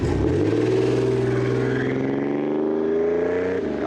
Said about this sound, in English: Then you got this really growly, 4-stroke, huge sounding exhaust.